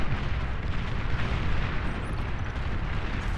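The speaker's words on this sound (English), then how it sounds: "I think that's too many artilleries. Way too many shell shockers." Massed artillery fire in the real-time strategy game Beyond All Reason, a dense, continuous rumble of overlapping booms and blasts, loud and sustained with no talking.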